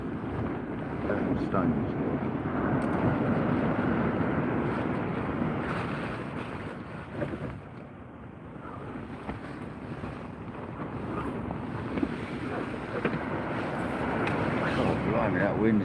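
Strong northerly wind batters a fishing bivvy out at sea during a kayak sea-fishing trip for conger eel, a constant roaring buffet with gusts and rustling, while someone speaks briefly.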